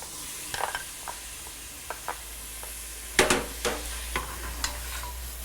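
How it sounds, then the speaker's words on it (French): Prepared spices added to melted butter in a pot for a Martinique dish, a soft steady sizzle broken by several sharp clacks and scrapes of stirring, growing busier midway. "On laisse fondre. Et là, on ajoute les épices que nous avons préparées."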